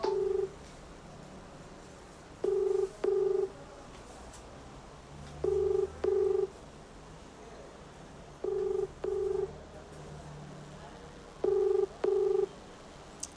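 An outgoing phone ringback tone repeats in double rings, four pairs spaced evenly about three seconds apart over quiet background hum.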